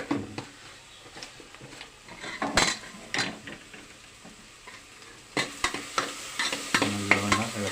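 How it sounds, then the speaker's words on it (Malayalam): Masala dosa filling is stirred in a pan, a spoon scraping and clinking against the metal in irregular strokes over a soft, steady sizzle. "ഒന്ന് ഇളക്കി കൊടുക്കുക"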